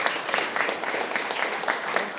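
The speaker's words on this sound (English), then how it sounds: "a massive round of applause for the McGowans and the O'Malleys" Wedding guests applaud in a dense, steady burst of clapping that carries evenly through the short clip, with a few voices mixed in underneath.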